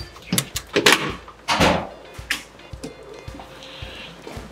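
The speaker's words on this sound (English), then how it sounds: "So I'll open the door." A door being opened in a campus game room, a few clunks and knocks as the handle and door move, followed by quieter rattles and soft thumps close by.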